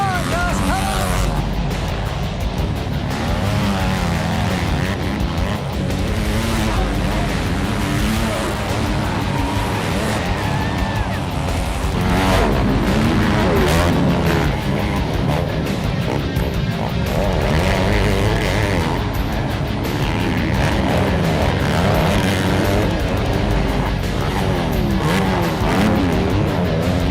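Motocross bikes race in a continuous loud engine roar that rises and falls as they pass, with crowd and voices mixed underneath.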